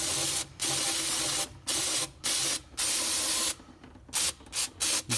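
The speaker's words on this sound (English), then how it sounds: "Hit this thing with some brake clean." Brake cleaner is sprayed from an aerosol can onto the rear axle of a 1988 Dodge Ram in a series of close, loud hissing bursts of varying length, separated by short gaps.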